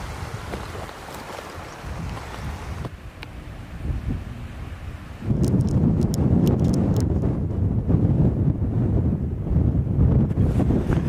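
Strong wind on the Pennine Way descending Torside Clough roars and buffets against the microphone, growing heavier and more gusty halfway through, with no voices heard.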